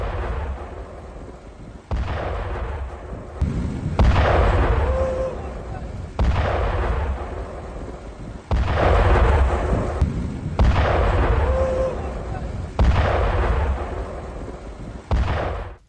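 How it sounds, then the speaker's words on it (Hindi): Explosions from US strikes in Sirik, Iran: a series of heavy, booming blasts at intervals of about two seconds, each a sharp thud followed by a long rumbling roll, loud and distant-sounding. "यहां पर अमेरिकी हमले के बाद 9 अलग अलग जगह पर धमाके सुने गए"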